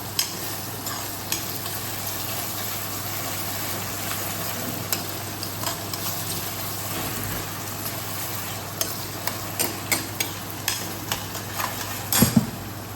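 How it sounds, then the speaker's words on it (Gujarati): Onions sauté in a pan for pasta with a steady, close sizzle, while a spoon scrapes and taps the pan at intervals, growing busier toward the end. "જો પાસ્તા બની રહ્યા છે. ડુંગળી સાતરી દેવાની પહેલા."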